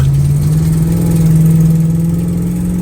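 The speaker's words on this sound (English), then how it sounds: "that exhaust leak is terrible" A loud 1971 Plymouth Roadrunner engine with an exhaust leak idles steadily up close, with a rough, throbbing rumble and a faint rising hum.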